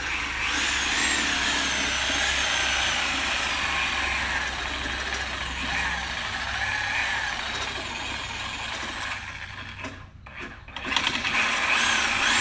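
Power tool cutting a stubborn PVC drain cover on a cart, a continuous grinding, buzzing whir held steadily at close range for about ten seconds before it stops briefly and restarts.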